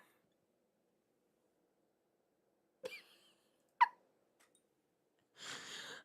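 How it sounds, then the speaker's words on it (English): Several short, close nasal sniffs spaced apart, taken while smelling perfume during an unboxing and try-on, with quiet pauses between each inhale. "y'all definitely could hear the sniffs"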